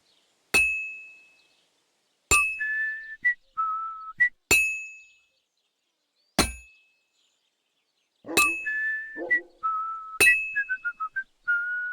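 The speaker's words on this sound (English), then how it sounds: "some fancy whistling going on then" Melodic whistling from a character in the medieval role-playing game Kingdom Come: Deliverance 2, short tuneful phrases that rise and fall, broken up by sharp metallic clangs struck every couple of seconds, such as hammer blows on an anvil.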